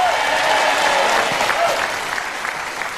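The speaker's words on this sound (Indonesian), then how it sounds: "Boleh tepuk tangan sekali lagi untuk Azizah" Audience applause for contestant Azizah at a televised religious talent competition, a steady, dense clapping that fills the whole stretch and tapers slightly toward the end.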